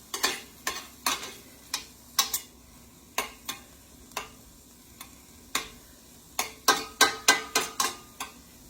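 Chicken fried rice with soy sauce being stirred in a frying pan, a steady soft sizzle under repeated scraping clicks of a utensil against the pan, irregular and close, with no talk.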